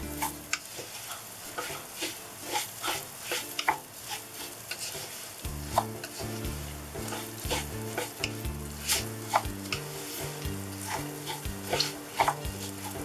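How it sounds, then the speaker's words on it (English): Vermicelli and garlic frying together in a pan for Egyptian koshary, a continuous sizzle with frequent scraping and tapping stir strokes, close and clear, with no talking. "Keep an eye on both. Fry the vermicelli."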